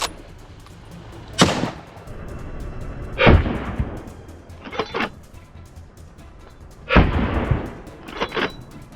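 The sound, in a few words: rifle gunshots during wild boar hunt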